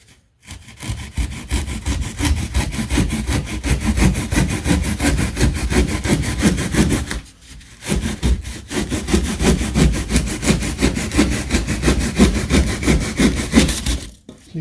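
A hand saw cuts a slice off a piece of wood in loud, close, rhythmic rasping strokes that run steadily, break off briefly partway through, then resume until the end.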